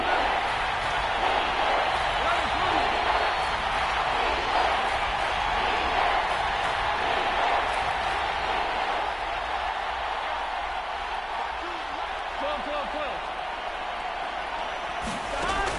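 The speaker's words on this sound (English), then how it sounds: "The crowd getting into it as we come up on a big third down." Stadium crowd roar in a video game football broadcast, a broad sustained wash of cheering throughout, with commentary voices talking over it.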